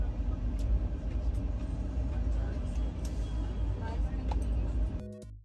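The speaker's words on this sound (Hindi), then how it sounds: "गाड़ी भी जर्क कर रहा है, डुब डुब" A train on the Howrah-Bikaner route rumbles steadily with low, close vibration, a few jolts breaking through, ending in a brief sharp clatter; voices talk faintly beneath.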